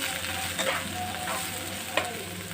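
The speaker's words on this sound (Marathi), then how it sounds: "कांदा चांगला भाजायचा आणि एक टोमॅटो चिरला आहे तो घालायचा चांगलं भाजायचं आहे" Chopped onion and tomato frying in a pan, a dense continuous sizzle with a soft stirring scrape and a sharper knock near the end.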